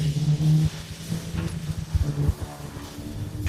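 Pickup truck engine rumbling low as it pushes through a marsh, uneven throttle surges and splashy, irregular bursts, close and moderately loud with no talk.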